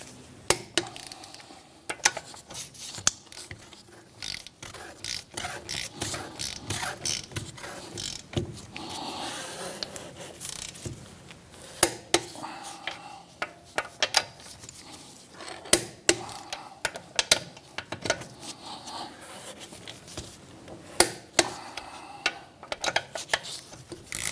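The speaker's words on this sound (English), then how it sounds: "grab our 17mm socket, set it to 73 foot-pounds torque, and we're going to run around these lug nuts in a star pattern" A torque wrench with a 17mm socket tightens lug nuts on a 2007-2013 Mitsubishi Outlander, making repeated sharp ratcheting clicks and metallic clacks in uneven bursts, close up, with no talking.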